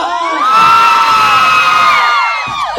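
A concert audience at a vocal group's show in Hong Kong cheers and shouts loudly and steadily, a dense sustained roar of voices with high whoops rising over it for a few seconds.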